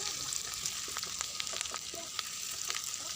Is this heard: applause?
no